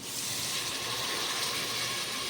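Water is poured steadily into a pot of vegetables cooked with turmeric and salt for a vegetable pulao. The rushing, splashing stream stays constant and close throughout.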